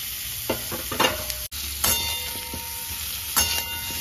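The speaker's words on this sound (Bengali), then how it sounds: "এরপরে আমি এঁচোড়গুলোকে ভেজে নেব" Boiled jackfruit pieces frying in a pan in a home kitchen: a steady oil sizzle runs throughout, broken by several sharp clinks and scrapes of a spatula stirring against the pan.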